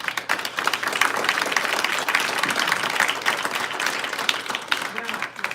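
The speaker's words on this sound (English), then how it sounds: "Give me a round of applause for our panel." An audience at a LinkedIn lead-generation event applauds a panel: a continuous patter of clapping from a crowd, with a voice talking over it.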